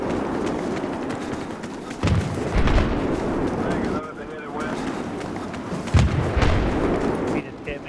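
C4 explosive detonating against a tank in Battlefield 3, heavy booms landing amid continuous gunfire and battlefield rumble, with strong low thumps around the middle and late parts while players talk over the chaos.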